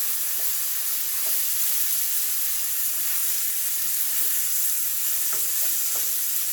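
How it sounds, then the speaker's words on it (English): Ground beef seasoned in a pan sizzles and fries steadily with a constant hiss, while a utensil scrapes and stirs through it in occasional soft knocks, close and alone. "And I like to stir it around in different angles"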